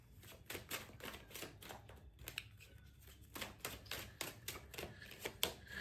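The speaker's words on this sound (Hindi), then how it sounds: "मैं कुछ कार्ड्स शफल कर लूँ" Playing cards being shuffled close by, soft rapid riffling clicks in repeated short bursts with small pauses between them, quiet overall.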